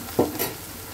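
Ingredients frying in a pan for talakaya gravy curry, browning under a light sizzle with a single quick stir or scrape, close and fairly quiet, no voices.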